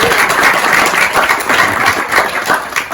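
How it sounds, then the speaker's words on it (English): An audience at a New England homesteading conference gives the introduced speaker a dense, steady round of clapping that carries through the whole stretch at fairly loud level, with a faint murmur of voices underneath. "If you don't know Morgan, go ahead, clap."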